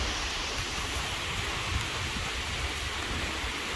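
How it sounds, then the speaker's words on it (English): Wind-blown rain pours down in a dense, loud, constant hiss, with gusty rumbling underneath as the storm sweeps past, continuous and without any talking. "Look at that blowing rain."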